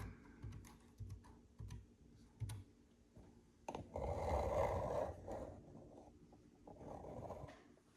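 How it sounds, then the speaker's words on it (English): Someone types a password on an ASUS T100T laptop keyboard, with clear close key clicks in short bursts and then a denser patch of rustling and tapping. "Excuse me while I put in my password."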